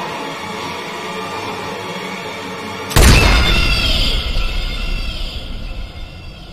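A pistol fires once, point-blank, in the Bioshock 2 video game: a sudden loud boom cuts through a steady hum, then rings and fades with a rumbling tail.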